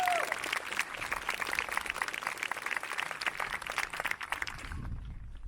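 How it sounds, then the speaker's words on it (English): A graduation audience at Fall Creek High School gives a round of applause for the custodial staff, dense steady clapping from many hands at moderate distance, fading out near the end. "let's give them a round of applause"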